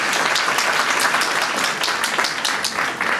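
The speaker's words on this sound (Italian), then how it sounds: "ai quali va un bellissimo applauso" An audience applauds elderly guests at a community gathering, dense continuous clapping, loud and close.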